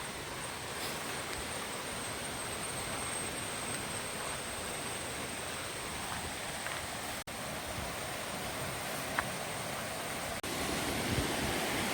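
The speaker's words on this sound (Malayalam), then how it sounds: "മാടത്തരുവി വെള്ളച്ചാട്ടം വാട്ടർഫോൾസ് നമ്മുടെ അടുത്തെത്തിയിരിക്കുകയാണ്" Steady broadband rush of water at Madatharuvi waterfall near Ranni, constant and loud throughout with no voices, a dense continuous roar like falling water or surf.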